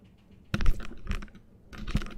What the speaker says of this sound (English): Could hear someone clicking there. I was worried that it was a computer going.